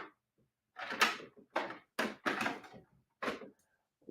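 A dresser drawer is pulled open and pushed shut several times while lipsticks are hunted through, giving a run of close, sharp wooden knocks and slides with short pauses between them and no voices.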